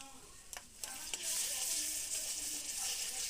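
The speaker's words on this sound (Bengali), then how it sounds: "পেঁয়াজটা ভাজা হয়ে গেছে, আমরা এখন এর মধ্যে দিয়ে দিচ্ছি আদা রসুনের পেস্ট" Ginger garlic paste dropped into a pan of fried onions while cooking chicken curry, a steady close sizzle of frying oil rising after a few soft knocks and stirring touches, with no talk.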